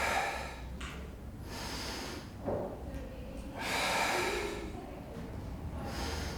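Breathing during a Pilates stretch in a skatepark: several audible breaths in and out, with a long, loud exhale near the middle, close and fairly clear.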